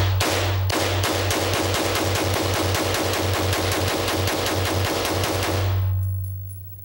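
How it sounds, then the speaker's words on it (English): A Browning M2 heavy machine gun fires one long, steady burst of around two dozen loud, evenly spaced shots, close by, over a low engine-like hum, then stops abruptly and the sound fades out. "I now know exactly what it's like to shoot an AR-15 assault rifle."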